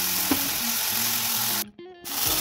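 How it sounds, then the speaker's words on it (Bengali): Potatoes sauté in a pan with onion, turmeric and carom seeds, giving a steady close sizzle with brief stirring scrapes and a short dip near the end. "আলু দেওয়ার পর ভালো করে আলুটাকে কষে নেব।"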